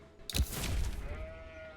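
A sheep bleats in Age of Empires 4, a single wavering bleat that swells then fades, fairly quiet with faint game ambience behind.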